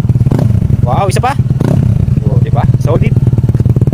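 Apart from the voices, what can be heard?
motorcycle revving with aftermarket exhaust muffler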